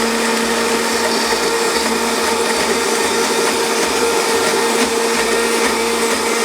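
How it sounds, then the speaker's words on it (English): A blender whirs loudly and steadily, pureeing chilies, garlic and hot water into a smooth marinade for Tex-Mex cheese enchiladas, its motor drone continuous with pulsing low churning. "and now we blend."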